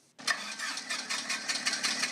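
An airplane engine starting up, a steady mid-pitched running sound that swells in after a brief silent moment and keeps a pulsing rhythm throughout, fairly close and alone.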